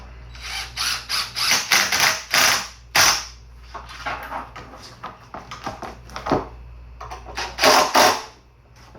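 Bolt being tightened on a DIY chicken feeder, giving bursts of ratcheting clicks and metallic clatter in uneven spurts, loud and close, with no talking.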